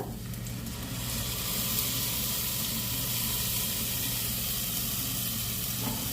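Ground tomato sizzles in a pan with fried onion and garlic, a steady, dense, close frying hiss that continues unbroken throughout.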